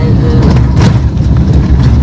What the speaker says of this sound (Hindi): मैं गाड़ी भी चला रही हूँ